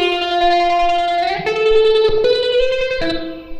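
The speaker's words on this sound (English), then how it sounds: "this weird guitar lead, and I just played out the super simple counter melody" A distorted electric guitar plays a slow lead melody of long sustained notes with gliding pitch changes, thick and effects-laden with a touch of reverb.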